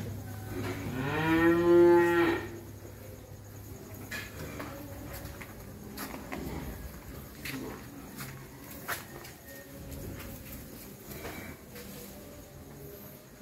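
Cattle at a beef cattle farm in Vinh Long, Vietnam, one loud drawn-out moo near the start, then a quieter stretch of farm background with faint scattered voices.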